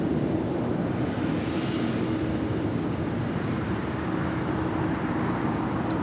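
Air France A350 jet airliner departing LAX, a steady broad jet engine roar with a low hum, continuous and fairly loud at a distance, with no talking.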